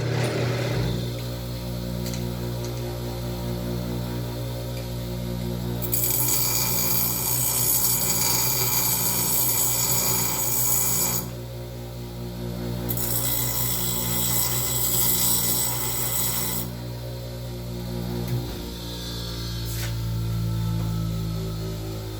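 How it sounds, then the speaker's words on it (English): A power tool grinds down a jaw on a modified Bessey vise, its steady motor drone rising into two long harsh, hissing grinding passes with a quieter run between them. "I'll grind this one down a little bit more"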